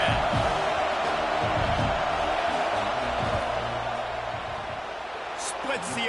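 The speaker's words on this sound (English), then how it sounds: "This crowd trying to do its part to get inside the kicker's head" Stadium crowd at a college football game between OU and Michigan roars steadily during a field goal attempt, a dense sustained wash of noise with commentators talking over it.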